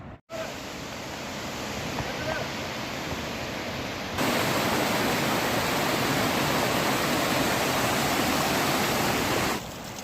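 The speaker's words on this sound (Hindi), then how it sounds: "यहाँ पे आपको इस तरह के छोटे मोटे झरने बहुत सारे मिल जाएंगे।" Small waterfalls along the Kheerganga mountain trail pour in a steady broadband rush, close and loud, growing stronger partway through and holding constant to the end.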